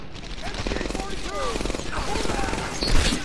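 Rapid machine gun fire in the video game Medal of Honor Airborne, a dense continuous fusillade of close battle noise with someone talking over it.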